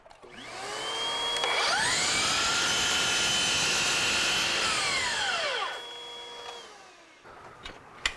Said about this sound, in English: So what I'm gonna do is just cut this 25 degrees